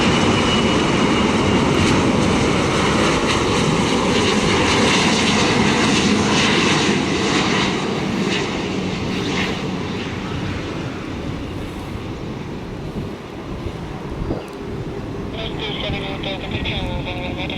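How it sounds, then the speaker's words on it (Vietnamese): A Vietnam Airlines Airbus A350-900 lands on a runway in poor weather, its engines producing a loud, continuous roar that slowly eases off, with someone talking over it. "nơi chiếc Airbus A350-900 của Vietnam Airlines đang bước vào hạ cánh"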